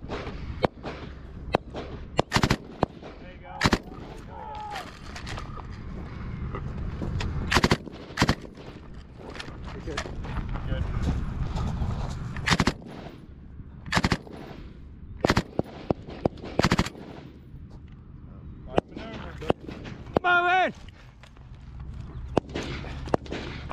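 Machine gun live fire during an extreme combat training exercise: sharp, loud bursts and single shots crack at irregular intervals over a rumbling background, with brief pauses between volleys.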